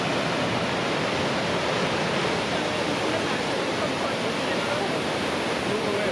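A steady, roaring rush of falling water, loud and continuous without a break, close to a big spring-flooded waterfall in Bosnia and Herzegovina.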